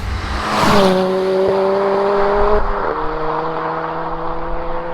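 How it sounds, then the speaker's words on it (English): A turbocharged 310 bhp Ford Fiesta ST engine revs under load in third gear around 3,500 rpm, a steady turbo whine over rushing intake air, pitch shifting as the gear changes, heard from inside the car. "you can hear the turbo sucking in, can't you?"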